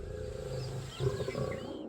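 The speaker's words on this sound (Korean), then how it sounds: "이 영상에는 두 마리의 수사자가 치열한 싸움을 벌이고 있는 장면이 나옵니다" Two male lions fighting in the wild, a steady low roar and growl rumbling on and off, swelling midway, with no talk over it.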